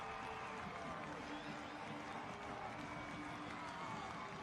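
Soccer crowd at Trinity Health Stadium roaring after Hartford Athletic's late goal against Louisville City FC, a steady, dense wash of cheering and noise that holds without a break, heard from a distance.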